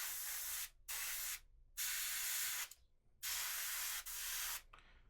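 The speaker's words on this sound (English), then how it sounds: "I like to have everything with the airbrush done" An airbrush sprays paint onto a model in several steady hissing bursts of about a second each, separated by short pauses, close and fairly quiet.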